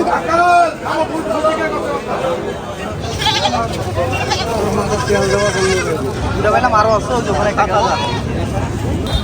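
Goats bleat repeatedly, loud and close, over a busy crowd of people chattering in the background.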